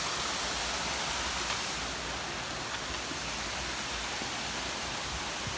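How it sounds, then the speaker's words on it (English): A small waterfall on the Appalachian Trail pours in a constant broad rushing wash, close and steady from start to end, with no voices. "Oh, nice little waterfall and everything."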